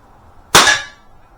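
A single sharp air pistol shot from a Webley Tempest or Beeman P17, loud and close, a crisp crack with a short ringing decay and no voices.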